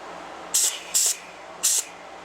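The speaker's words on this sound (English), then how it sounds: "Let me spritz it." Three quick spritzes of a spray bottle hiss over pecan wood at a woodturning lathe, short bright bursts with a brief pause between the second and third.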